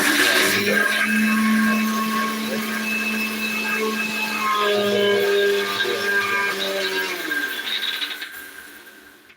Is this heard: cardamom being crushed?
yes